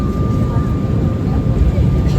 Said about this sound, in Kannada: ಫ್ಲೈಟ್ ಕೆಳಗೆ ಇಳಿತಾ ಇದೆ.